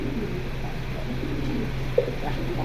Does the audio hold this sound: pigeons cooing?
yes